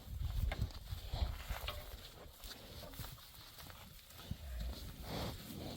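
A horse at a fence shifts about and munches hay, giving soft irregular clops, rustles and chewing sounds nearby, with a few quieter gaps.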